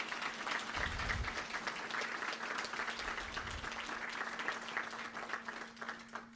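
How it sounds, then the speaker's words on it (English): A crowd at a competition finals event applauds the teams in a thick, continuous roar of clapping that holds at an even level throughout. "let's give them all a round of applause."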